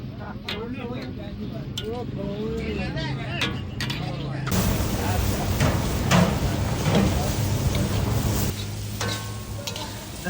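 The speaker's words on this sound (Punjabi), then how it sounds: "ਦਹੀਂ ਪਾ ਕੇ ਦਹੀਂ ਨੂੰ ਵੀ ਕੋਈ 4-5 ਮਿੰਟ ਭੁੰਨਾਂਗੇ ਅੱਛੀ ਤਰ੍ਹਾਂ।" Yogurt fries with chicken in a karahi, opening with a voice speaking over a low sizzle, then a sudden loud surge of hissing frying with clattering stirring and scraping that continues close and steady.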